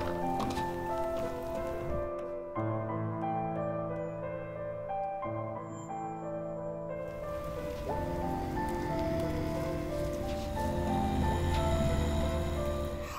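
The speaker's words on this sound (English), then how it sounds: "I like rainy days." Steady rain falling in the game Night in the Woods, a soft continuous patter layered under gentle melodic background music, with no one talking.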